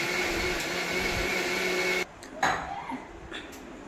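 A kitchen blender whirs steadily while making a shake, a continuous buzzing motor drone for about two seconds before it stops, followed by quieter clatter and handling noise.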